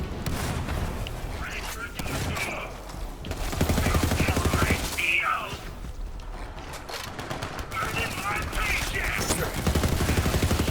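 Rapid automatic gunfire from shooting enemies in Borderlands 3, bursts of rattling shots repeating across the whole stretch with brief lulls, loud and close, with someone talking over it.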